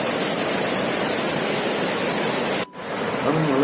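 Water pours and tumbles at Vazhachal near the Athirappilly waterfall, a loud, even roar of rushing flow that fills the scene, briefly cut off near the end before resuming.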